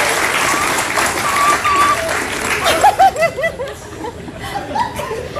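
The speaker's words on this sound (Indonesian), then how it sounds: "Give me applause." A studio audience at the Indonesian television talk show Hitam Putih applauds loudly for a few seconds, then the clapping thins into chuckles and laughter mixed with talk.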